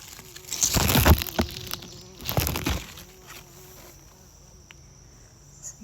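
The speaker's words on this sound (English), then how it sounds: "Some busy bees this morning." Bees buzz among plants in a vegetable garden with butter beans and habanero peppers, loud close passes swelling and fading twice over a quieter outdoor background.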